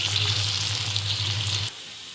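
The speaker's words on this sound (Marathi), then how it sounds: "बघा आता मी हे फ्राय करून घेणार आहे।" Steady sizzle of potatoes frying in a pan for a kanda bombil (Bombay duck) dish, with a low hum beneath; close and even, it cuts off sharply near the end, leaving quiet room tone.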